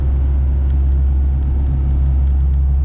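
A 2021 Ford F450 truck, reportedly having issues and carrying heavy weight, labours up a hill; its engine gives a steady, loud low drone with a constant rumble and no change in pitch throughout.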